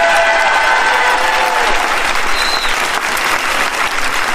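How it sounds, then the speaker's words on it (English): A crowd applauds a Major at a political event with loud, dense, continuous clapping that stays steady throughout, close and full, with a few faint whistles but no clear speech. "Let's give our Major a round of applause."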